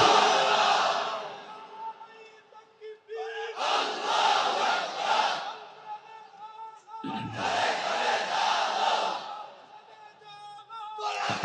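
A large crowd at an outdoor Islamic sermon gathering shouts the takbir, Allahu Akbar, in loud unison bursts, separated by short pauses while a speaker's voice leads the call.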